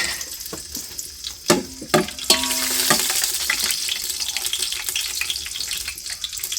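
Bay leaf, cinnamon and cloves frying in hot oil for village-style chicken biryani, a crackling sizzle with a few sharp clatters and scraping stirs, close and fairly loud.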